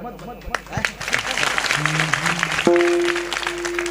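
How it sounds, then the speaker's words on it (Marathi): An audience claps together at a devotional gathering, a dense patter of hands mixed with a voice and a sustained musical tone. "अगर आपको ताली बजानी है तो दिल से बजाओ"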